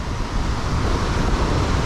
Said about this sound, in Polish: Fale są gigantyczne, wiatr sporawy